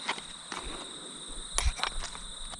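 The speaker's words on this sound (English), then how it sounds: "You've got crickets, crows and all sorts of things going off" Outdoor ambience with a steady high insect chirr like crickets, plus a few scattered brief calls and rustles; no clear crow caws stand out.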